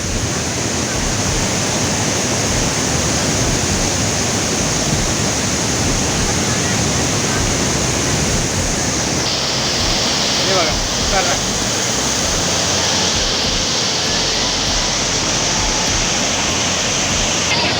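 Bhandardara waterfall roars loudly and without a break, a dense, broad wash of falling water that stays steady and close throughout.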